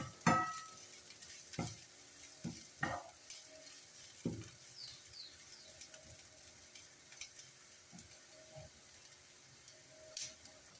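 Onions for chickpea curry sauté quietly in a pan, a faint low sizzle with a handful of distinct spoon knocks and scrapes early on, then softer stirring, with no speech.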